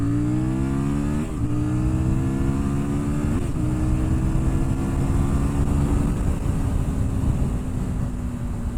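A CFMOTO 800NK or KTM Duke 790 motorcycle accelerating hard from about 15 mph, the engine note rising steadily through gear changes with loud, close wind-buffeted exhaust roar throughout.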